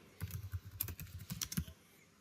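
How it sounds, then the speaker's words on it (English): Keys tapped on a computer keyboard while a question name is entered in a form builder, a quick run of light, irregular clicks for about two seconds, close and fairly quiet, then stopping. "To create another question, I can add question and I can type in the name"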